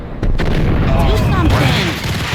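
A burst of heavy gunshots rings out in the action video game Max Payne Remastered, booming close and loud, while a voice speaks over the firing.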